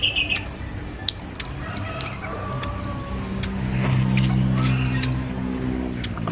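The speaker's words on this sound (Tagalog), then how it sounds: "Maraming manok. May ano, may gansa." Chickens cluck and a rooster crows at an outdoor Filipino countryside spot, with a car passing and a steady hum of farmyard noise.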